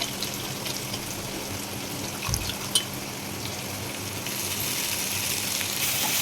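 Curry leaves and mint hit hot oil in a pan for fried rice, giving a steady close sizzling hiss throughout with a couple of brief clinks and no talking.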